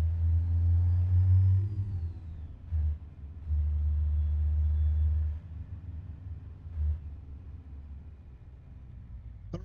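A heavy Kenworth W900 truck engine in the video game American Truck Simulator, pulling a trailer, drones low and steady, dipping and surging as it shifts, with a thin whine riding above the rumble.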